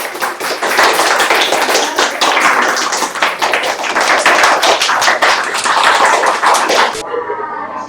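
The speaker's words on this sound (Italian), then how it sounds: "Applauso." Loud, close applause breaks out at a midnight Christmas countdown, a dense rapid clatter of hands that stops abruptly near the end, leaving a faint voice behind.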